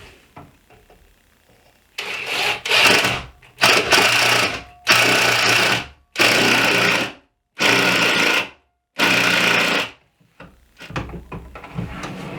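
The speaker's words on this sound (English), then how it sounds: "I'm going to screw 4 screws of the 1¼ pocket hole screws from underneath." Power drill driving 1¼-inch pocket hole screws up through the underside of a vanity top, six loud whirring bursts of about a second each, separated by short pauses, close up.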